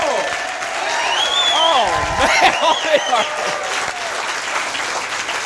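Applause and cheering from a live studio audience at the start of a corner-cafe talk show, a steady loud wash of clapping with whoops, while a host talks over it.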